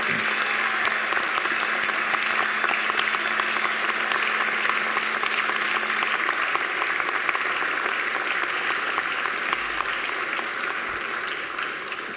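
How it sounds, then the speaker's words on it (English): Graduates at a university ceremony turn and applaud their families and friends in a large hall. The clapping is loud, dense and continuous and holds steady for the whole stretch. "face your family and friends and give them a mighty round of applause in thanks and appreciation"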